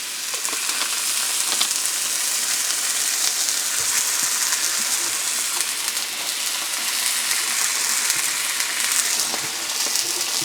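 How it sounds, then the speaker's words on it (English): Onions frying in a pan of Coke for reindeer hot dogs, a steady loud hiss and crackling sizzle that holds evenly throughout with no talking. "for frying our onions."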